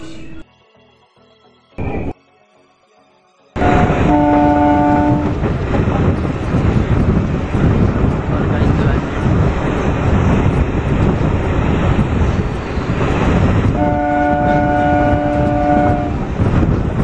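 An Intercity Express EMU train pulls out of Motipur railway station with a loud, steady rumble that builds right after a brief quiet stretch, and its horn blares twice, once early and once near the end.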